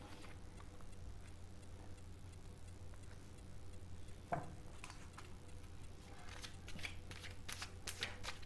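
Tarot cards shuffled by hand at a reading, a steady soft riffling and rustling close by with a sharper slap near the middle and denser flicks toward the end, no voices.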